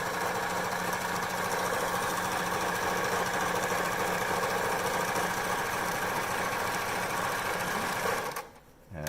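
A sewing machine runs a straight stitch through cotton fabric for a homemade face mask, a steady, loud, continuous mechanical whir with rapid rhythmic clatter that cuts off abruptly near the end.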